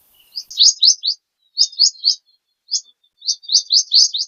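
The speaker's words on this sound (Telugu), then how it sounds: "పిట్టలు అయితే అరుస్తున్నాయి కదా, నేచురల్ గా" Birds chirp at dawn in a forest campsite, sharp high tweets in quick clusters of three to five, repeated in bursts with short pauses, close and clear against otherwise silent surroundings.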